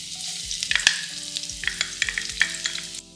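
Chopped garlic and pimento frying in hot olive oil in a pot, a crackling sizzle with bright spits and a few utensil clicks, close and fairly loud before cutting off near the end.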